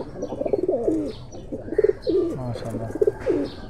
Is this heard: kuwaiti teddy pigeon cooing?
yes